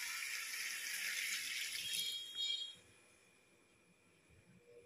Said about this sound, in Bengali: গরম জলটা দিয়ে দিই।